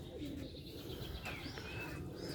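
Bombay pigeons coo softly in the distance, a few low calls and chirps over a faint background murmur.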